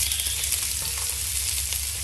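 Hot oil sizzles steadily in a pan while the sauce for rougail saucisse is started, a continuous close, bright hiss with no talking.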